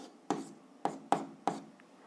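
Pen strokes scratch across paper in four short, distinct bursts, close and quiet, as someone writes out an algebra exercise by hand.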